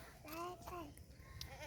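A male goat at a livestock sale gives two quick, wavering bleats followed by a softer call, faint and mixed with background chatter from people nearby.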